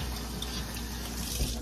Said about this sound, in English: you rinse it in cool water, don't rinse it in hot water